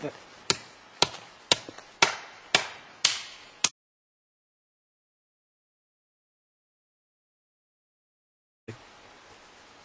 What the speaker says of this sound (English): they've heard Sasquatch knocking on trees or knocking sticks together like this